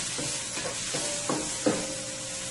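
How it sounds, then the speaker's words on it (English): Scallion, onion and chili pepper frying in a pan, a steady close sizzle with a few soft stirring scrapes, no talking. "And let this fry for about a minute to a minute and a half."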